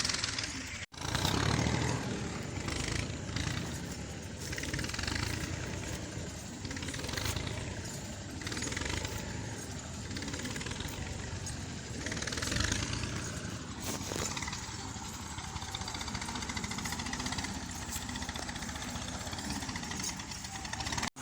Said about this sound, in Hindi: ट्राली आ चुकी है। पीछे से आप देख सकते हैं रूढ़ी गिर रही है।